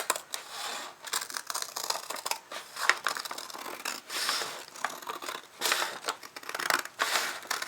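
Scissors cutting through a paper grocery bag, a steady series of close, crisp snips and crinkly paper rustles with no talk.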